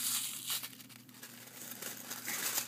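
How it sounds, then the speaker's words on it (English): Strips of tissue paper are crumpled by hand for an art journaling page, giving a close, continuous crinkling and rustling with irregular crackles throughout, no speech. "I'm going to crumple them up though."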